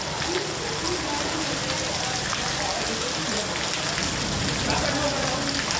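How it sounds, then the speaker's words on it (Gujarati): Heavy rain pours down steadily in Wankaner, a dense continuous hiss of water striking surfaces, with a faint voice now and then underneath. "ધીરાધાર વરસાદ ચાલુ છે આપ જોઈ રહ્યા છો"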